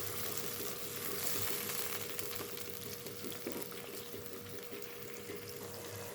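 Tomatoes sizzle and bubble in a pan after water is added, a continuous soft crackling fry that stays steady and close throughout, quiet and without voices.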